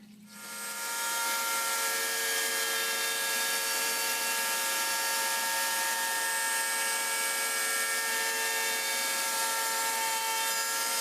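Router cutting holes in wood, a loud continuous high-pitched whine and roar that rises within the first second and then holds steady throughout.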